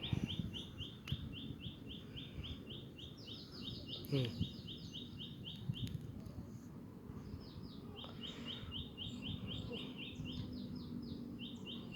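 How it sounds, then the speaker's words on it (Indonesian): Small birds chirp in quick repeated trills in the morning, heard from the third floor of a villa with a hill behind, fairly faint and a little distant, over a soft low hum and occasional background noise. "Mantap suara burung."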